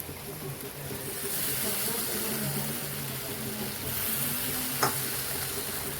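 Ridge gourd, tomatoes and moong dal fry in hot oil in a home kitchen, giving a steady, close sizzle and hiss with faint stirring noises and one brief sharp tap near the end.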